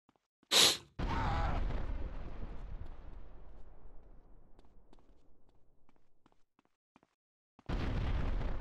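Grenade blast in the video game GTA Vice City: a sharp crack followed by a loud booming explosion that rumbles and slowly decays, then a second burst near the end.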